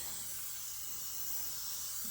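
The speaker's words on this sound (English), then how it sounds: "Got this spray that I use." Makeup setting spray misted from a bottle onto a face, a steady broad hiss running for about two seconds at low level with no talking.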